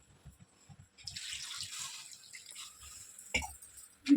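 Water streams briefly into a pot of Andhra-style gongura dal with a splashing pour, then a couple of clanks; soft low thumps tick beforehand.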